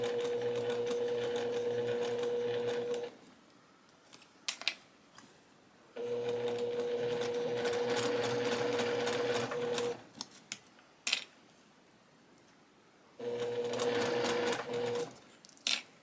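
A sewing machine driven by a foot pedal stitches with a steady buzzing whir in three long runs, broken by pauses that hold a few clicks and knocks. The sound is close and loud, with no talking.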